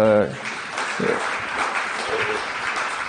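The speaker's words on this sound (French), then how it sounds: "Je vous laisse applaudir les intervenants" Conference audience applauding the speakers at the end of a cybersecurity panel session, a steady wash of clapping that follows a brief spoken word at the start.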